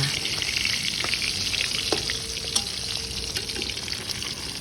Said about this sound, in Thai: ปลาทูก็เริ่มสุกเหลืองกรอบแล้วจ้า